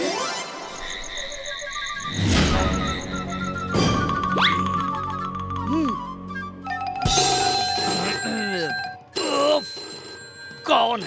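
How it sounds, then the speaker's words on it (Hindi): A cartoon telephone in a Hindi children's animation rings with bright, repeated electronic trills and jingles, mixed with animated voices talking and whimsical sound effects. "इस फोन की आवाज से मैं डिस्टर्ब हो रहा हूँ।"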